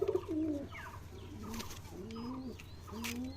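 Pet pigeons cooing while feeding from a hand: several soft, repeated rolling coos close by, with faint chirps and light rustles between calls.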